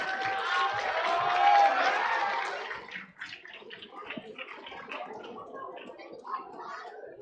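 An audience at a student tech expo prize announcement claps in a dense burst for about three seconds, then the applause thins out and scattered voices and murmuring take over.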